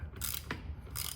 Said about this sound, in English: Let's see, ratchet.